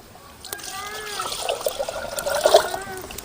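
Water pours and trickles steadily into a container, with splashy gurgles building toward the end; no one speaks.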